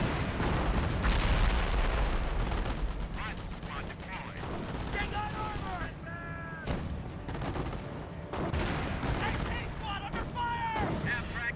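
Rapid bursts of MP40 submachine gun fire in a Company of Heroes battle, dense and continuous, mixed with other gunfire and explosions, with a commentator talking over parts of it.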